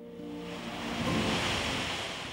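Atlantic surf surges into the rocky hollow of Boca do Inferno in Portugal, a steady wash of breaking waves that swells louder midway, with no voices.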